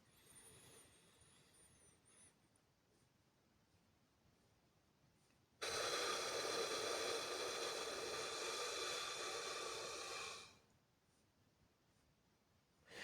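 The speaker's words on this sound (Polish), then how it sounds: "Robię to przesadnie głośno, żeby było słychać, żebyście wiedzieli, co, w którym momencie oddychania jestem" Loud, deliberately exaggerated breathing during self-massage for relaxation: a single long, close, breathy rush of air lasting several seconds, standing out from a quiet room and then fading back to near silence.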